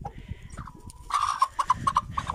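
Chickens cluck and chatter close by in a quick series of short calls, with brief rustling in between.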